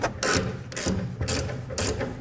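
A hand ratchet works a 13 millimeter bolt on a truck frame rail, a rapid clicking pawl in four short bursts with brief pauses between strokes, close and fairly quiet.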